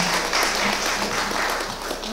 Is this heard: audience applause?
yes